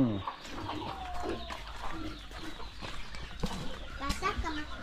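A turkey calls in short, faint outdoor bursts over a soft murmur of background voices.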